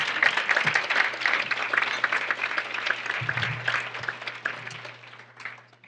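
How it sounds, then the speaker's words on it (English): Warm applause at a luncheon for honorees, dense clapping from a seated crowd that is strongest early and gradually thins and fades toward the end. "one more round of applause for our amazing Wonder Women"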